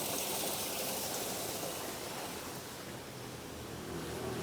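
Steady rushing flow of running water somewhere near abandoned factory buildings, a broad continuous wash of noise lasting throughout with no voices.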